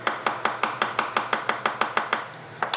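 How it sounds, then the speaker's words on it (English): A small hammer tapping a pin into a metal watch bracelet link on a block or anvil, about a dozen sharp, bright metallic taps in an even rhythm, close and alone. "hammer it like so, and then I like to give it a little extra tap to get it actually inside"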